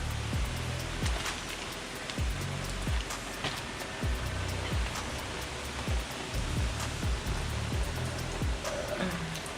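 Steady rain pours outdoors as a continuous, fairly loud broadband hiss of drops on surfaces, with regular low thumping beats running underneath throughout.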